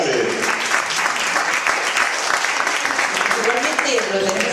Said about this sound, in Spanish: Un fuerte aplauso para Mari Carmen.